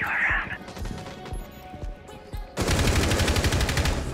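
Rapid gunfire from the video game Copper, scattered shots followed by a dense burst of automatic fire, with game sounds in the background.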